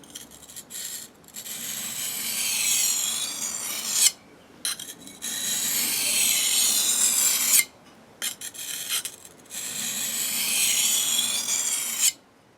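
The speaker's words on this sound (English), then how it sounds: "I'm going to spend about 10 or 15 minutes just working on this particular stone" An ESEE 6 knife edge is honed on a 250 grit sharpening stone: close, rhythmic gritty scraping strokes come in three long bursts, separated by brief silent pauses.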